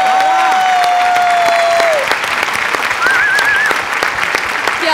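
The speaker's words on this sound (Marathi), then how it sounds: "ताईच्या बेरिंगसाठी जोरदार टाळ्या झाल्याच पाहिजेत" Loud, sustained audience applause fills the room at a comedy show, a dense wash of clapping that holds steady throughout, with a melodic instrumental tone sliding beneath it.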